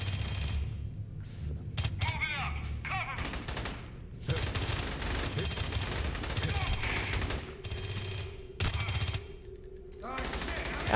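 Sustained video game gunfire, rapid bursts of shots filling most of the stretch with brief pauses between volleys, loud and close, with a few faint in-game voices mixed underneath.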